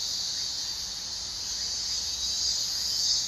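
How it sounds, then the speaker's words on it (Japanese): Summer cicadas drone in a steady, loud, high-pitched buzz that runs unbroken throughout, with no voices over it. "じゃあセミとおさらばで。"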